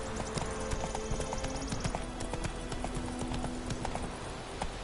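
A horse gallops in The Witcher 3 video game, hooves clopping in a quick, steady rhythm close up, with a tonal score running underneath.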